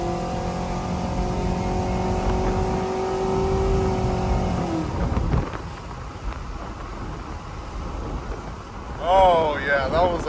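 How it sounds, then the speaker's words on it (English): Cammed GMC Sierra pickup with an automatic transmission and 3400 stall converter launching hard, a loud steady engine roar with harmonic drone that breaks into rough tire-spinning noise midway, wind buffeting near the end. "Alright, let's launch her. I want to spin some tires"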